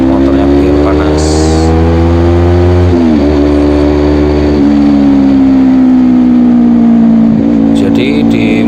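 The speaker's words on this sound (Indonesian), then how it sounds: "Kita betot dulu sebentar motornya biar panas." A motorcycle engine is revved close up to warm it, a loud, steady mid-pitched drone that rises and falls through a few throttle blips, with brief faint clicks over it.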